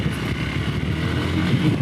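A motorcycle with a slight fault labours up a steep off-road S-bend climb in Uttarakhand, its engine note a steady, rough drone that holds close and constant throughout.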